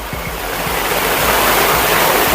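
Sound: water gushing down over rocks

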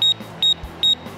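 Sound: Tango TX1 gas detector going into alarm, beeping

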